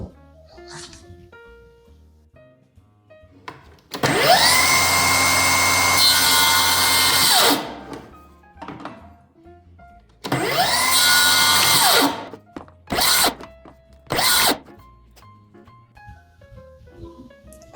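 Table saw cutting miter slots for splines in wood: two long, loud whining cuts of about three seconds each, then two short bursts. Quiet gaps fall between them, and brief talk is heard in the pauses.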